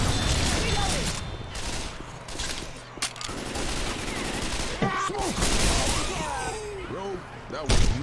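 Rapid gunfire in a zombie horde video game, several sharp shots cracking in bursts amid chaotic game noise, with people talking over the action.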